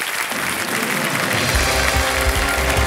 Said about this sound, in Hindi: तो एक बार फिर तालियों के साथ हम इनका अभिनंदन करते हैं।